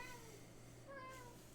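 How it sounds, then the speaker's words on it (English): A little girl kitty, just woken up on a shelf, gives a couple of short, clear meows close by against a quiet background hum, with no talking. "My little girl kitty just woke up."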